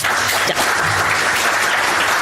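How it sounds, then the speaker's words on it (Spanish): Seminar audience applause, a loud sustained burst of many hands clapping close by, steady and even for the whole stretch. "Un aplauso, por favor"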